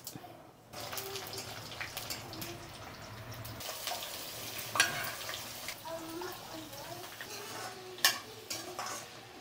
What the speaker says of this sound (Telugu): ఆవాలు వేస్తున్నా, జీలకర్ర, కొద్దిగా శనగపప్పు